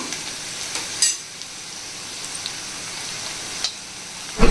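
Half a teaspoon of cumin seeds drops into hot oil in a pan and sizzles with a soft, steady crackle, marked by a few sharper pops and clinks.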